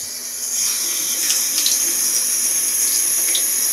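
Steady rush of hot and cold water running from a sink faucet into a paper-towel-lined basin, close and constant after a brief quiet start, with faint clinks and no speech.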